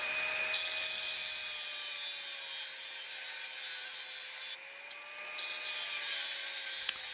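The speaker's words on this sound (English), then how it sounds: "Here I'm cutting down the honing rod using an angle grinder." An angle grinder cuts through a steel honing rod made of D2 tool steel, a continuous high-pitched whine and grinding hiss with steady tonal rings, close and loud.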